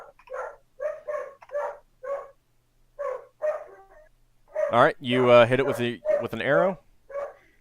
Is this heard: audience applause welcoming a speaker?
no